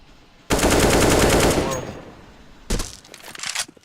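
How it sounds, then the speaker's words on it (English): AK rifle gunfire in CS:GO during a professional esports match: a loud sustained burst of rapid automatic shots lasting about a second, then a second, shorter burst after a short pause. "A couple of flashes, but Simple alive and well with the AK"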